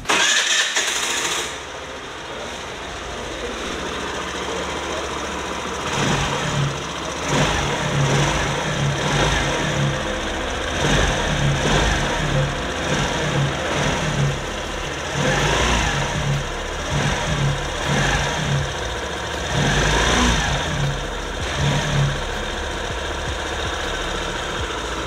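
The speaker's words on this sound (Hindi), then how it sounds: "तो दोस्तों कुछ इस तरीके से आपको यहाँ पे एग्जॉस्ट साउंड मिल जाता है" A Suzuki Avenis 125 scooter's engine idles steadily and is revved in repeated short bursts, its exhaust note rising and falling, loud and close, with no talking.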